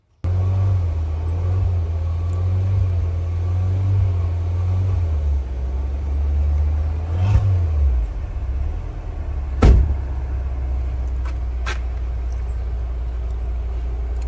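A Renault Duster engine idles with a steady low rumble for about fourteen seconds, with a couple of sharp clicks or knocks partway through and no voices.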